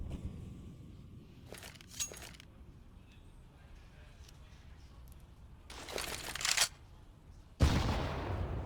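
A grenade thrown in a Counter-Strike match on the Overpass map at a pro tournament: quiet game ambience broken by a couple of sharp crackling bursts, then a louder blast near the end, with a caster talking over it.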